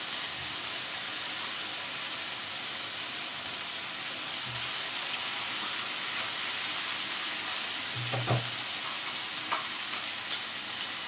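Masala spiced with salt, turmeric and crushed red chilli sizzles steadily in a pan for a dhaba-style urad dal, a soft continuous frying hiss with a few faint spoon scrapes and knocks.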